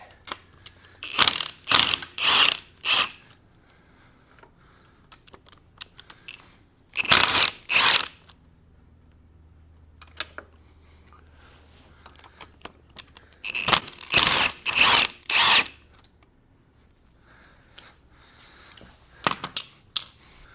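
A ratchet works the 12 mm head bolt nuts on a YFZ450 engine rebuild. Several bursts of rapid clicking, close and fairly loud, are separated by quiet pauses.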